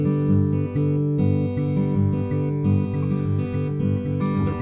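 Fingerpicked guitar plays a pinch pattern with the last eighth note left out, giving a bouncy, steady rhythm of plucked bass and treble notes, close and clear with no voices.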